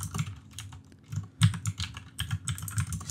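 Close, brisk typing on a computer keyboard while writing Discord.js bot code, a run of irregular clicks and clacks in short bursts with brief pauses, no voices.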